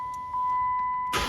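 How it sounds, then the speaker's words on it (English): A steady electronic chime tone rings inside a Chrysler 300, then a short, loud burst breaks in at the very end as the key turns and the engine starts. "now I'm gonna put the key in and just try to start it regular"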